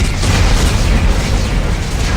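Explosives detonating in the Dead Space 3 video game: a dense, loud, continuous rumbling roar that fills the whole moment with no break or speech.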